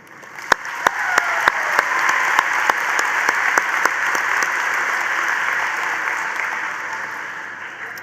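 A graduation crowd at Carl Junction Schools applauds the class of 2025 salutatorians: steady, dense clapping from a large audience that swells and then gradually thins, with a few sharp, louder claps standing out near the start.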